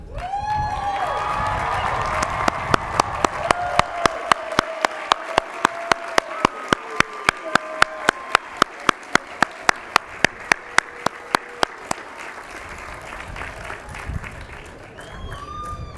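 A large crowd at a university commencement ceremony applauds at length. A sharp, steady rhythmic clap stands out within the crowd, and a voice comes in toward the end.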